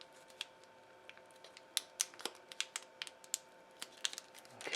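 Origami paper being firmly creased after folding, a string of sharp, close crinkling clicks and scrapes in an irregular rhythm, quiet and alone.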